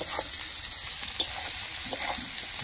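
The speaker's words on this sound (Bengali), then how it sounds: "শুটকি মাছ রান্না" Spicy dried fish (shutki) cooking in a pan over a wood fire at night in a village setting, a steady close sizzle and crackle with a few faint stirring clicks.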